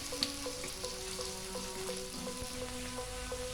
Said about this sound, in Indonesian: Kita goreng sampai halus. Oke, sekarang kita masukin juga bawang putih yang telah diiris tipis juga.